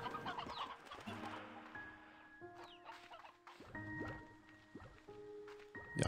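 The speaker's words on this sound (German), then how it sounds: "Ich habe da gerade einen Hahn reingegeben." Rooster and hens cluck in the video game Slime Rancher 2, with repeated close clucks and calls layered over soft dripping, squishy game effects and no talking.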